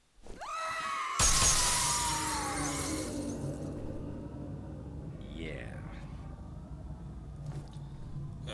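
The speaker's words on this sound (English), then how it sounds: "The scream, the windows break." A sudden crash of shattering window glass cuts in after a rising scream in the video game F.E.A.R., the loud burst fading into a long rumbling, eerie ambience with faint whispers.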